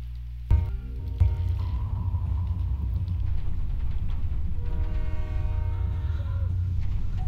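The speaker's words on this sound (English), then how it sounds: "Wow, we're starting off on a train." Train rumble from Portal 2, a steady low mechanical roar of a moving train with a loud clank near the start and tonal horn-like whines sounding over the continuous rolling noise.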